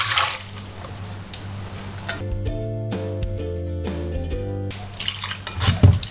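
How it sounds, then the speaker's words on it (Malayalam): Water is poured into a clay pot holding a curry of chopped Chinese potato, a close splashing stream that turns into a rising, ringing gurgle as the pot fills, with a short clatter at the end. "ആവശ്യത്തിനുള്ള വെള്ളം ഒഴിച്ച്"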